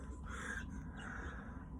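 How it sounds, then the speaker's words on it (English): A crow kept aboard a boat caws softly a couple of times, faint and close over a low steady background hum. "the bird decided to come and join us."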